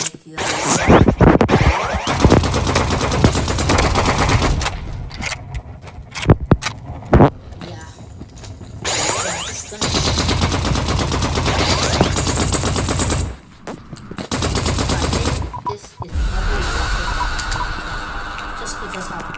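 An AUG assault rifle fires in a video game, with loud, dense automatic bursts running almost continuously and broken by brief pauses, while a voice talks over the action.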